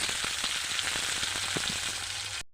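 Tomato and crushed garlic paste sizzles hard in hot oil, a dense continuous crackle close up with small spatters and stirring knocks, no talk, cutting off abruptly at the end.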